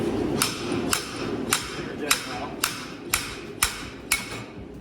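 A slide hammer knocks against an old seal in a steady series of about eight sharp metallic blows, roughly half a second apart, close by with no talk.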